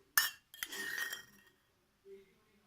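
A metal spoon clinks against a small dish while lemon juice and honey are mixed for a homemade remedy: a sharp tap, then a brief scraping stir and a faint final clink, close and quiet.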